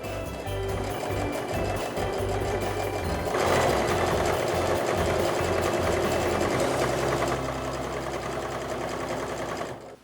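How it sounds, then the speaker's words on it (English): Sewing machine stitching a canvas apron, a fast continuous mechanical whir and rattle running nearly the full length, close and steady, briefly shifting pitch as the stitching speed changes. "I'm just going to do one extra stitch a little bit further in"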